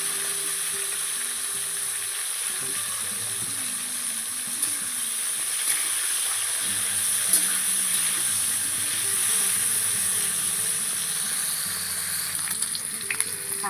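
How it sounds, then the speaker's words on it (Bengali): Salted, turmeric-coated teasel gourd (kankrol) pieces fry in oil in a pan with a continuous close sizzle and hiss, lightly stirred now and then, and no voices are heard. "কাঁকরোলটা তো ভাজা হয়ে গেল।"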